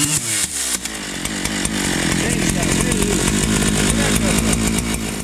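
A running chainsaw chews through wood and strikes a machine bolt buried in it, giving a loud, harsh, rattling grind that holds steady for several seconds after a brief start.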